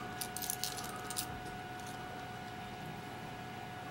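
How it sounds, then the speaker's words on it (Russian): Light metallic jingling of Ukrainian hryvnia coins being handled in a short cluster near the start, then quiet hum with a faint clink at the end. "Украинские монеты."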